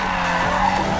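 Car tyres squeal continuously as a car drifts in the racing game Need for Speed Payback, with a loud, sustained screech and engine drone throughout.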